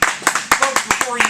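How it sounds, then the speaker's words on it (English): A handful of people clapping on a talk show in a close, distinct round of sharp claps at a fairly quick, uneven rhythm. "let's give him a round of applause"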